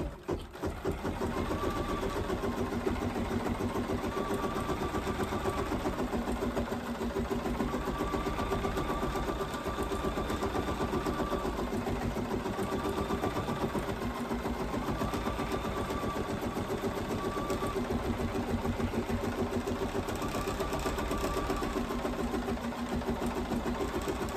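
An in-the-hoop embroidery machine stitches a placement line, a steady, continuous mechanical whir with a fast needle rhythm that runs unbroken and close for the whole stretch, with no voices.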